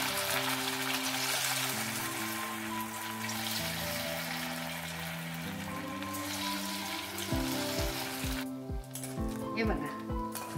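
Sago and potato fritters sizzling in hot oil over a medium gas flame, a steady close frying hiss throughout, with a voice talking over it.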